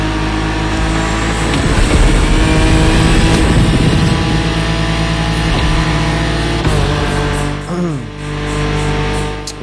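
A car in The Crew Motorfest roars over rough off-road ground, its engine loud and continuous with revving swells and shifting tones, a brief dip and pitch change late on, then the drone resumes.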